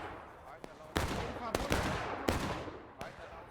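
Pistol gunfire in a Civil War video game, with four or five sharp, loud shots at uneven intervals over a low ambient rumble.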